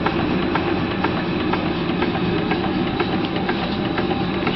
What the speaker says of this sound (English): It's an early box bed engine,